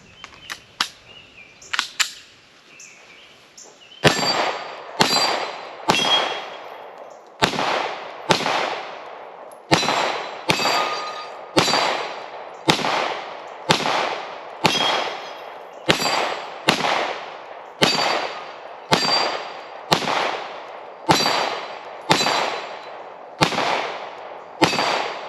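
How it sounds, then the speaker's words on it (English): Springfield Echelon pistol firing 115 grain Winchester white box rounds from a 20 round magazine, about twenty loud sharp shots in a steady, evenly spaced string after a few faint clicks and handling sounds, each report followed by a short ringing decay. "For my first shots of the Springfield, we're going to use the 20 round mag."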